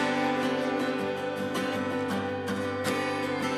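A soft, calm music track with steady sustained tones and gentle rhythmic pulses plays alone at moderate level, with no talking.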